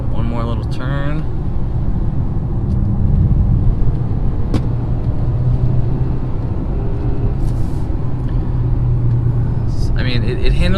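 A 2018 Mazda CX-5 rounding a turn, its steady low engine and road rumble filling the cabin at an even level, with a few faint higher chirps near the start and end.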